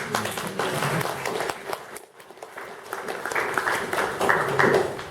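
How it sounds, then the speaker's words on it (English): An audience claps after remarks at a climate justice and food panel discussion, a dense patter that dips briefly near the middle and then swells again, with faint voices underneath. "I think it's a round of applause"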